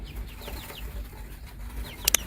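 A rooster clucks in short repeated bursts against a low farmyard rumble, ending with a couple of sharper, louder squawks.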